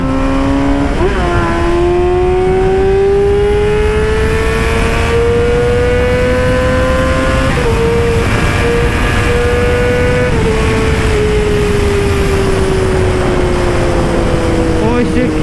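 Yamaha R6 sport motorcycle engine revving and accelerating on an asphalt road, a loud steady whine climbing in pitch, with brief dips at gear shifts, heard close up without speech.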